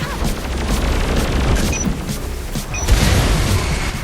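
Loud, dense explosions and gunfire from the video game Saints Row IV form a continuous roaring barrage with a heavier boom near the end.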